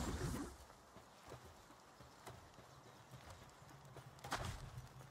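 Electric horse creature from the Palworld video game moving along with steady clip-clop hoofbeats at moderate distance, quiet and rhythmic, with a louder burst at the start and another near the end.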